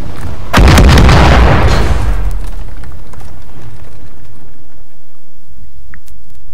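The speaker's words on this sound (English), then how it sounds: "We just got artillery strikes." Artillery strikes in a military video game: one loud close explosion with a heavy booming body, a few sharp cracks, and a long rumbling decay that fades into quiet.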